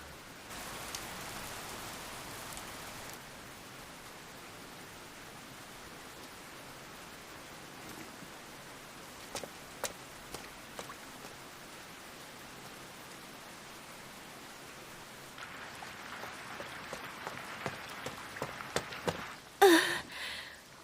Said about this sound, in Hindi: बारिश शुरू हो गई है।